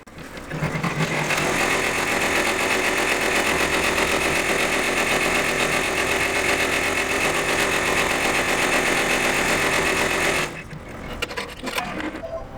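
An embroidery machine stitches a tack-down line through batting, a loud steady rapid mechanical buzz that runs close for about ten seconds and then stops abruptly.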